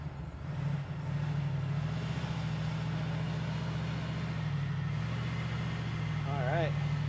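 A ProCharged Chevrolet C10 pickup truck drives with a steady, loud low engine drone throughout, under continuous talk.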